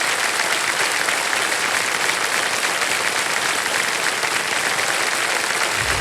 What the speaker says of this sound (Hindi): तालियां बज जाए एक बार फिर।